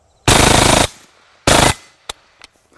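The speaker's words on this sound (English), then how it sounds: "this wouldn't be a machine gun video if we didn't shoot at least a watermelon and a pumpkin here" Kriss Vector submachine gun firing full-auto into a watermelon: two loud, close bursts of rapid shots, the first longer than the second, followed by a few sharp single impacts and clatters.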